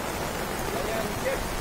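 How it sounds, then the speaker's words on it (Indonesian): Steady hiss of rain falling at Seseh beach in Bali, constant and fairly loud with no break. "Ini ternyata setelah berenang sebentar hujan ya. Hujan sekali."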